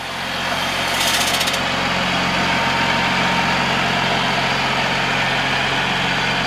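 A 2008 Freightliner Business Class M2 106 truck with a 220-horsepower Cummins ISB 6.7 turbo diesel idles with a loud, steady, close rumble and a constant low hum, plus a short higher rattle early on.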